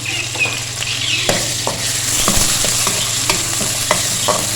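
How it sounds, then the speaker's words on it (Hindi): Ginger garlic paste sizzling and frying with golden-brown onions in a pan, a steady loud crackle with soft stirring scrapes and clicks throughout. "अब इसमें ऐड करेंगे अदरक लहसुन 1 टेबलस्पून भर के"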